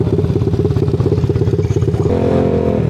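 A motorcycle engine cranks and fires up, producing a rapid, loud, close clattering putter that shifts into a smoother idle near the end.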